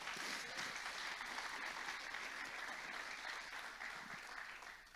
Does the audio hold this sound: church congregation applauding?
yes